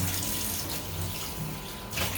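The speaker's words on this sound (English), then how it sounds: "So let me rinse this bowl." Tap water runs into a kitchen sink while a bowl is rinsed, a steady close splashing flow that swells into a brief louder gush near the end.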